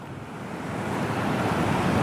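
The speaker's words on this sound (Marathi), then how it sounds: "पाण्याचा फ्लो बघा जबरदस्त पाण्याचा एवढा आवाज येतोय" Rushing floodwater pouring across a road during heavy rain, a dense, steady roar that swells slightly over two seconds, close and loud with no voices.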